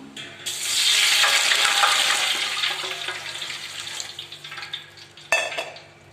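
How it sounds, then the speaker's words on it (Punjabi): Water is poured into a pot of hot ghee with cloves, setting off a loud, sustained sizzling hiss that slowly fades, then a short clatter and a second burst of sizzle near the end. "ਹੁਣ ਪਾਵਾਂਗੇ ਜੀ ਆਪਾਂ ਇਸ ਵਿੱਚ ਪਾਣੀ"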